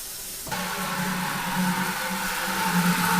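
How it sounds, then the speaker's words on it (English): Star San sanitizing solution fizzes and bubbles steadily in a container, a close, continuous hissing froth that begins abruptly and holds at an even level with no talk. "Now the Star San sanitizing solution makes a lot of bubbles. And you can see that it's fizzing up and bubbling pretty good in there."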